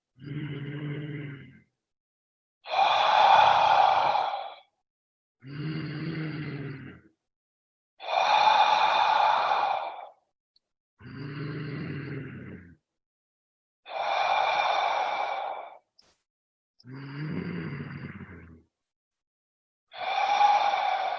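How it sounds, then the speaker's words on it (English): Loud, forceful yogic breaths repeat in a slow cycle: long noisy inhales through the nose alternating with open-mouthed "ha" exhales, each separated by brief silence. "inhale loud through the nose. Exhale with the ha."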